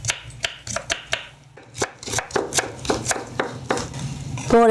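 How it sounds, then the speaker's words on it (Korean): A knife chops vegetables into fine julienne strips on a cutting board, a run of sharp, close, irregular taps with brief pauses between them, and a soft clink near the end. "이렇게 해서 채로 씁니다"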